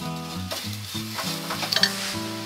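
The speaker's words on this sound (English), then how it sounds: "give it a bit of a stir, get rid of any lumps of brown sugar" Brown sugar is stirred into onions frying in a pan, a soft sizzle under quick scraping strokes of a utensil, with a cluster of clinks near the end and nobody talking.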